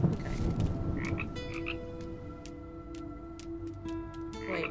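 A frog croaks in a video game set on an island, giving repeated raspy calls over a droning musical background with soft ticking, with no voices.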